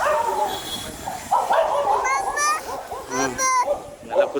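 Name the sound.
dog barking on a beach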